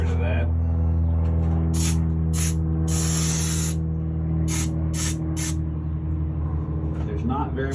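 Insulation product is sprayed inside a steel enclosed trailer in short hissing bursts over a continuous low engine-like hum, with someone speaking throughout.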